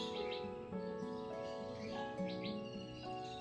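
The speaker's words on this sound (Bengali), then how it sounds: "আশেপাশে বিভিন্ন পাখি ডাকাডাকি," Several birds call around a wetland where a white egret wades and fishes, with layered chirps, tweets and a sustained tonal song, faint and moderately distant throughout.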